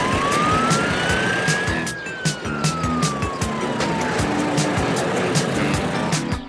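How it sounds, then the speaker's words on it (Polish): A rising and falling wail from an animated emergency truck's siren in a children's cartoon about vehicles, loud and continuous over a busy music and effects bed with rhythmic clicks. "Jedziemy na sygnale."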